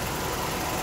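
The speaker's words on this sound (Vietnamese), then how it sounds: "máy nổ rất là thì thầm anh chị ha" A Toyota Camry petrol engine idling quietly, a steady soft hum that holds even and unbroken throughout the short stretch, heard alone without talk.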